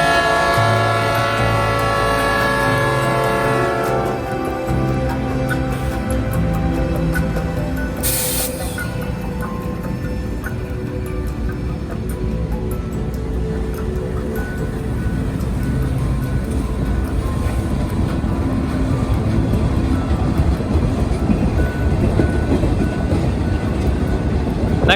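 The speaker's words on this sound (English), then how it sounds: "The next train to pass will be an empty T-Bird with 2112 leading." An empty T-Bird ore train on the CN Iron Range, led by locomotive 2112, rumbles past in a steady, loud roar of wheels and rail noise that lasts throughout, with a brief hiss early on.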